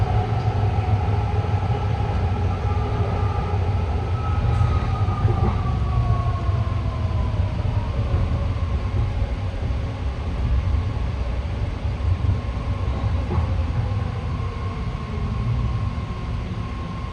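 A BART Orange Line train runs steadily at Lake Merritt in Oakland, a continuous loud rumble of wheels on rail with a faint high whine and a few brief squeals, no pauses throughout.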